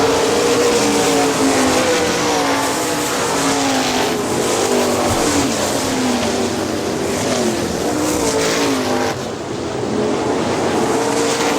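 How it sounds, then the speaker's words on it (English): 410 sprint cars roar past continuously during a 30-lap feature at Hartford Speedway Park, engines whining and droning loudly at high revs, with a brief dip in the noise near the end. "Approaching the halfway point of this 30-lap feature, as Norman continues to put lap cars down."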